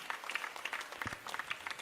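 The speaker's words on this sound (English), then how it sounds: "Let's all give applause." Applause from a school audience welcoming an MLA at a student event, scattered and moderately close, a brief burst of patchy clapping without voices.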